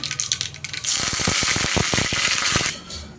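Mustard seeds, dried chillies and curry leaves hit hot oil for a sambar tempering, bursting into a loud, steady sizzle with crackling pops that runs nearly three seconds before easing off, after a few soft clinks.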